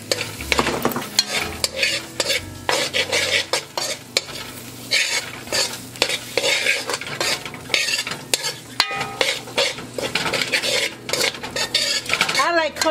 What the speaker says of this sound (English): I'm going to throw in some vegetables in here.